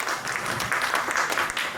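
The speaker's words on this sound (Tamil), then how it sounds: "அவருக்கு எங்களுடைய பலமான கைத்தட்டல்கள்." An audience at a Tamil film success meet claps loudly for Radhakrishnan Parthiban, a brief dense burst of close, steady applause.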